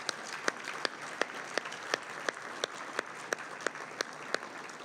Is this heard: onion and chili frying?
no